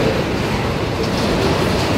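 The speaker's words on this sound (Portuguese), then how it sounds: "Olha, esses são os vagões." Train wagons roll past through the town of Jaraguá do Sul, Santa Catarina, giving a steady broadband rumble with faint rhythmic clatter, close and continuous without talk.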